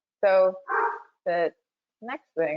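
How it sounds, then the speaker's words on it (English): A dog barks in several sharp bursts nearby while a person talks over it. "apologies if you can hear my dog in the background"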